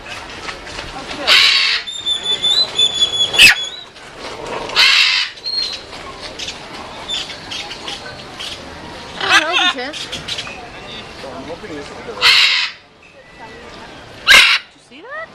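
Parrots squawk at feeding time, with sharp, loud, harsh calls breaking out in scattered bursts among some quieter chatter, and people talk in between.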